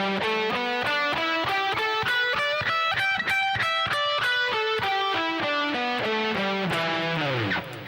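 An electric guitar, slightly distorted, plays a minor pentatonic scale note by note up through two octaves and back down, in even, steady picking, ending with a quick downward slide.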